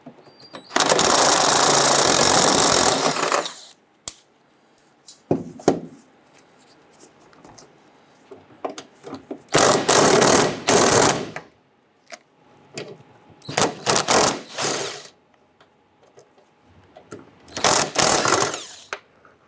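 A ratchet with a 13mm socket removes the gas tank support nuts under a 1997-2006 Jeep Wrangler. Several loud bursts of rapid clicking, some long and some short, are separated by quiet pauses and lighter handling noises.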